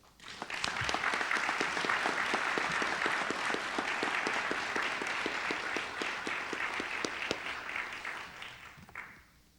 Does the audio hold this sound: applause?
yes